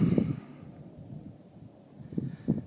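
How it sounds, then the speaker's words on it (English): Gusty wind buffets a rocky hillside, rumbling in bursts at the start and near the end with a quieter lull between, close and rough like wind hitting a microphone. "it's still too windy"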